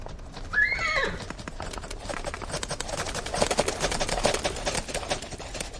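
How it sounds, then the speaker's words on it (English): Royal horses clop along nearby and one neighs sharply at the start, then steady hoof beats continue close and clear. "Oh, the royal horses. What are they doing here?"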